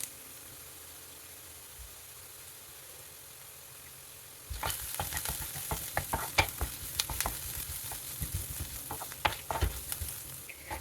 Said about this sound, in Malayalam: ഇതിലേക്ക് കുറച്ച് വേപ്പില ചേർക്കും.